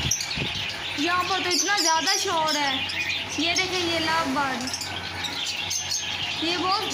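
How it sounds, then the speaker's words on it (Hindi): Lovebirds and other caged birds at a busy bird market in Juharabad chirp and tweet continuously, a dense, noisy chorus heard close by throughout with speech over it. "यहाँ पर तो इतना ज़्यादा शोर है। ये देखें, ये लव बर्ड।"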